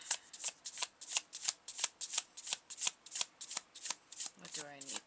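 Tarot cards being shuffled in steady, rapid bursts of crisp riffling, close and fairly quiet, repeating about twice a second, with a brief voice near the end.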